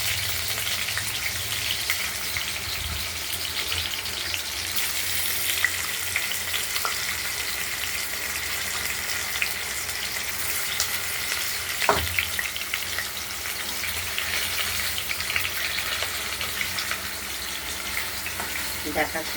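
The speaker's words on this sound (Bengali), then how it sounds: "পনিরটা ভাজা হতে থাকুক, হালকা হলুদ করে ভাজবো।" Pieces of paneer fry in mustard oil with a soft, continuous sizzle and crackle that stays steady and fairly faint throughout.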